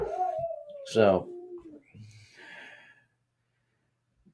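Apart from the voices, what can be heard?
unhappy dog howling upstairs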